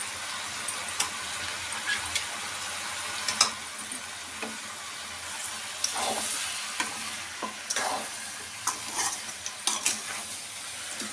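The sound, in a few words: frying goat head curry in oil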